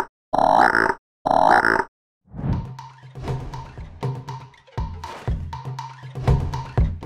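A toad gives two loud, buzzy croaking calls, followed by a string of softer low grunting and thumping sounds.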